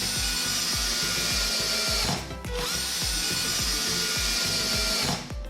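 Power drill driving screws into wood while building a kart frame; repeated whirring bursts with rhythmic ratcheting pulses, close and loud, briefly pausing twice, with no talking.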